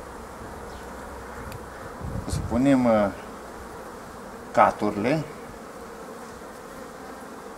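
Honeybees hum steadily at an opened hive during colony splitting. The soft buzzing runs throughout, with a voice speaking briefly over it twice.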